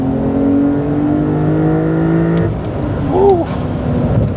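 Mercedes GLE 63 S Coupe engine accelerating, a loud close roar climbing through the revs for a couple of seconds, then a quick shift and a brief whooping exclamation over continued road noise.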